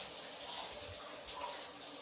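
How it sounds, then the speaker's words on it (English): A bathroom tap runs water into a garden tub in a South Jordan, Utah home, making a steady, unbroken hiss and splash with no voices. "We got water. I'll let that run for just a minute."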